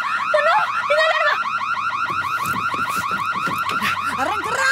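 A car alarm blares loud and close, cycling rapidly through warbling, chirping siren tones that repeat without pause.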